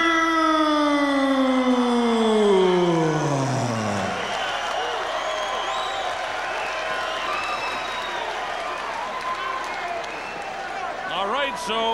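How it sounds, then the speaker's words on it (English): A boxing arena crowd in Auckland roars in a frenzy, a loud sustained cheer that swells after a falling siren-like tone and carries on with scattered whistles, while an announcer speaks over it. "The crowd is in a frenzy"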